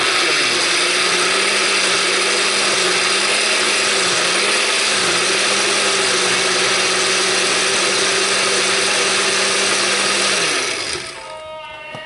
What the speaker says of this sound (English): I'm going to put them all in the blender